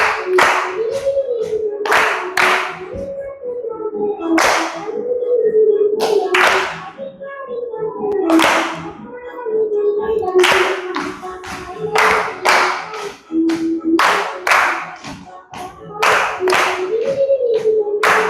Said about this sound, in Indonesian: tepuk pingguin